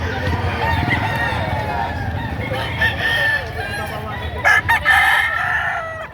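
A gamecock crows loudly nearby at a livestock auction market, one long drawn-out call, with other fowl clucking and background noise underneath.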